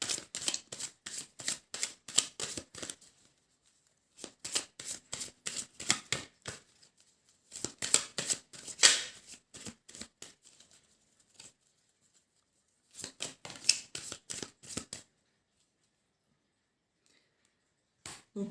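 Tarot cards drawn and shuffled from a deck, giving crisp rapid flicking and riffling bursts in several clustered runs separated by pauses, close and fairly quiet, with no voices.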